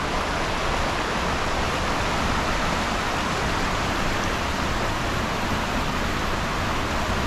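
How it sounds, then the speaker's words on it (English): Broad, steady rush of a river flowing beside a campground in an Oregon rainforest in Willamette National Forest, a constant close water roar with no breaks and no voices. "It's definitely nice falling asleep to the sounds of the river."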